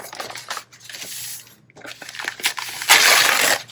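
Paper wrapping is crushed and bunched up by hand, making close, crinkly crackles in several bursts, ending with a louder sustained crumple.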